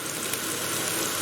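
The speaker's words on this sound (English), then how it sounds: "Okay, we're going to let that fry up." Onions sizzling in hot oil in a pan after garlic and ginger paste, a steady close crackling fry with no talk, part of an okra and potato masala.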